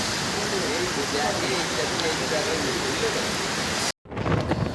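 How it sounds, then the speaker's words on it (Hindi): Steady, dense rain hiss fills the scene, loud and close, then cuts off abruptly near the end before the noisy patter resumes briefly. "यहाँ बारिश स्टार्ट हो गया और हम रुक चुके हैं"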